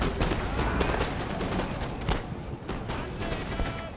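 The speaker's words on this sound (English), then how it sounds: "I just had all grenadiers and just threw grenades." Grenades thrown by grenadiers in Empire Total War go off in a rapid volley of loud, close booms and cracks, several blasts overlapping in quick succession with no talk.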